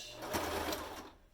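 A sewing machine stitches forward and then back stitches, a quick, quiet mechanical whir with a couple of brief clacks, heard close and alone.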